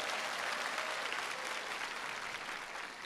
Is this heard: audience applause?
yes